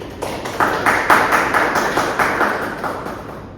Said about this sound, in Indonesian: Berikan tepuk tangan kepada Ayu Fadliah Putri.